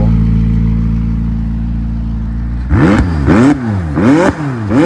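Near, loud engine of a McLaren 600LT with top-exit exhaust, steady idle drone for a few seconds, then three or four sharp revving blips rising and falling in quick succession.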